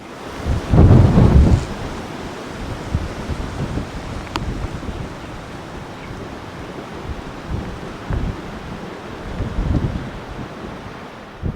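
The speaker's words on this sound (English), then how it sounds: "now a storm is heading towards us" Thunder rumbles loudly early on, then low rolling noise continues over wind and rain while a storm approaches an outdoor fishing spot by the water, with fainter rumbles later.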